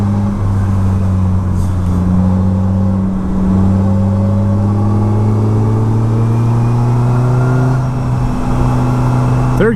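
A Slingshot three-wheeler accelerates hard in third gear on a mountain road, its engine droning loud and close with a steadily rising pitch and a growling tone, and no voices over it.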